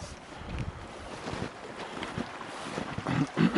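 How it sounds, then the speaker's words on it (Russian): Water rushes along the main channel of the Snezhnaya River in winter taiga among snow and boulders, a faint steady hiss mixed with gusts of wind. "Ну вот по основному руслу вода прямо бежит."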